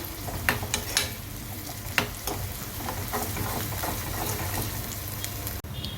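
Sliced onions and curry leaves fry in a pan for mushroom masala curry, giving a steady close sizzle with a few sharp pops and scraping stirs, and no voices.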